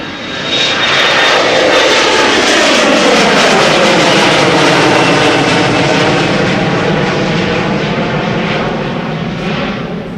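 A fixed-wing airliner's engines roar loudly and steadily at Amsterdam Schiphol Airport, a dense, sustained rumble with a sweeping pitch as the plane passes close by, with no voices.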